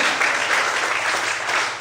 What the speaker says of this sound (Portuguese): Podemos aplaudir mais uma vez ao Senhor Jesus?